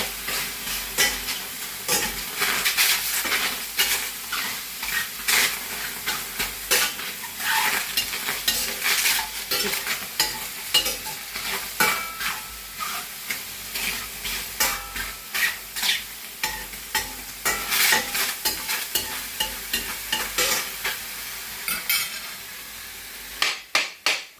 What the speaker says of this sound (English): So you're frying it until the water is gone of the mushrooms